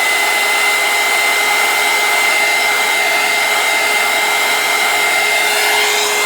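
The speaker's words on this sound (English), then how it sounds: "My handy dandy hot air gun here." A hot air gun drying paint on a painted rock blows a steady, loud whirring hiss with a constant pitched whine that holds unchanged for about six seconds.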